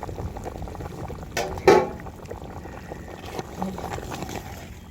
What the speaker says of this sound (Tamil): சூப்பராக கொதி வந்துடுச்சு